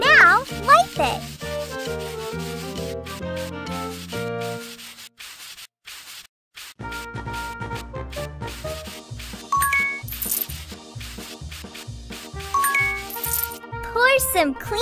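Quick rubbing wiping strokes repeat over bright, chiming game music, with a short quiet gap partway through.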